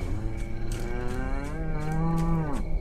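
A cow in the video game Edge of Hearts gives one long, drawn-out moo that lasts nearly three seconds, loud and close over a steady background hum, with no talking.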